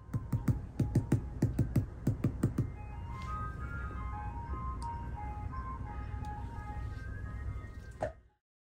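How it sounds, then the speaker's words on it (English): A neighborhood ice cream truck plays its tinkling jingle melody at moderate distance for several seconds, following a burst of keyboard clicking, before everything cuts out. "there's like an ice cream man in my neighborhood, and he plays his song at like, frankly, a deafening decibel"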